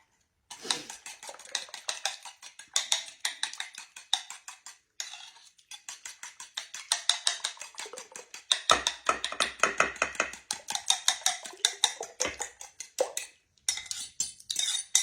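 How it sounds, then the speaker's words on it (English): Rapid, rhythmic scraping and clinking of a utensil against a bowl as cake batter is stirred, in quick repeated strokes with short pauses, close by. "I'm just mixing this together so to make it a lot easier"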